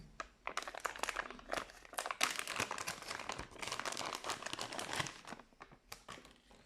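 Plastic packaging around a sight cone being opened by hand, dense crinkling and crunching close up, continuous with irregular sharper rustles throughout.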